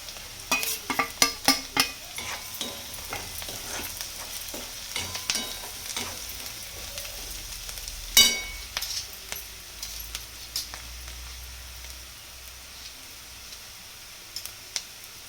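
Onion and green chili frying in a pan with salt, turmeric and sugar being stirred in for kanda poha, with steady soft sizzle and frequent scraping clicks of a spoon, busier at first and thinning out later.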